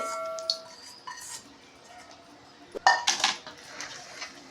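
A spoon scrapes and clinks against a metal vessel while mango pickle with fried fenugreek seeds is mixed, giving a few sharp close taps and rattles amid quiet pauses.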